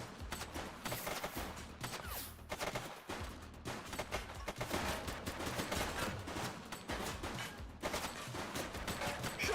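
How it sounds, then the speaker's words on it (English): Dense gunfire erupts in the police video game The Precinct, with rapid overlapping shots and bursts that form a sustained fusillade, loud and unbroken for several seconds. "Shots fired!"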